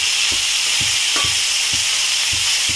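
Broad beans (avarakkai) sautéing in a pan, a loud steady hissing sizzle with regular soft knocks of a spatula stirring every half second or so, no speech.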